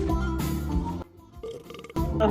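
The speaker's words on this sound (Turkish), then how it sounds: "Hanginiz geğiriyorsunuz?" A player burps over PUBG Mobile voice chat, a loud, drawn-out, low gurgling belch that starts, pauses, then comes back, with game noise and voices around it.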